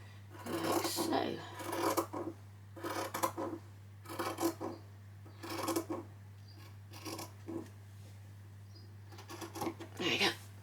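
Scissors cut fabric along a quarter-inch line for a child's dress, giving a series of short crisp snips in bursts with pauses between, close and moderately loud over a steady low hum.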